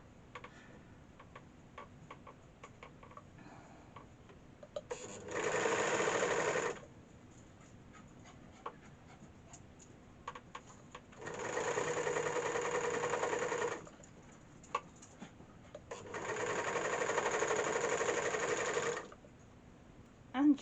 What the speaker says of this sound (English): your serger will cut that off in a moment